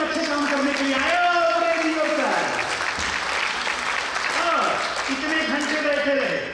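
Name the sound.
audience applause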